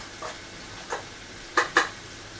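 Turmeric, garam masala, Byadgi and Kashmiri red chilli powder, Malvani masala and asafoetida stirred in hot oil give off a soft, low sizzle, broken by a few quick scraping strokes of the spoon near the end.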